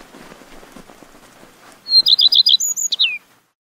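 A quiet rustle gives way to a quick, bright series of high bird chirps, about eight rapid notes followed by a couple of trailing calls, close by, as a bird flits between birdhouses.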